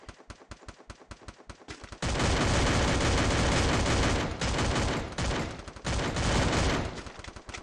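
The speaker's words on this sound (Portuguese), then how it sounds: "eu dei uma par de tiro nos caras." Gunfire in the Free Fire video game: a rapid run of separate shots, then a dense, continuous loud barrage of automatic fire with brief breaks, close and alone without talk.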